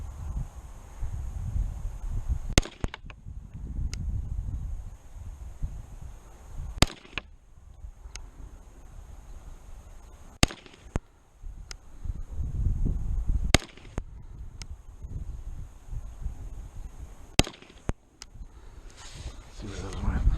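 SIG P320 pistol with a heavy grip module and a 3.5 lb drop-in trigger fired at a 25-yard target, sharp loud cracks spaced several seconds apart over a low rumbling background.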